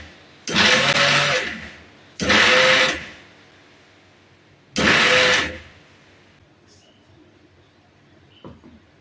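A mixer grinder grinds sesame, coconut and cardamom in three loud whirring bursts of about a second each, separated by short pauses, followed by quieter clicks and handling sounds.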